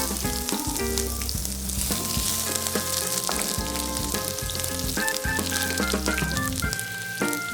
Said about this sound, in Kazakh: Пиязды салып кууруп алабыз биринчи.